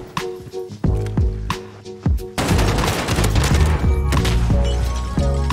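Pistol gunfire in the game Call of Duty Modern Warfare, with several sharp, loud single shots spaced apart at first, then a denser burst of overlapping shots and game effects, with music in the background.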